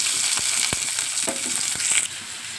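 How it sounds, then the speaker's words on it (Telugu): Onions fry in about four spoons of hot oil with cinnamon in a pan, giving a dense, continuous close sizzle with a few soft taps from stirring. "ఆనియన్స్ అనేవి కలర్ చేంజ్ అయ్యే వరకు ఫ్రై చేయాలండి."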